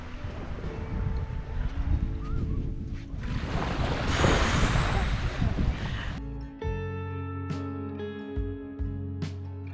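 Ocean waves wash onto a beach on the Isle of Mull, with a steady surf wash building to a loud broad roar, then giving way to wind buffeting the microphone.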